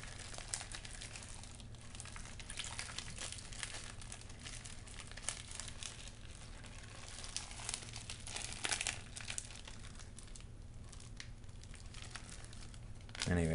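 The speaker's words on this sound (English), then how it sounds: "I'm just going to take an opportunity here quick to rinse out this bag." Plastic bag crinkles steadily and closely while being rinsed out after gold panning, a dense rustling with occasional water splashes, with a voice talking over it.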